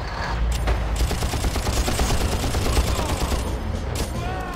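Rapid sniper and automatic gunfire crackles at a checkpoint in the Far Cry video game, a loud dense barrage of overlapping shots filling the scene with little pause.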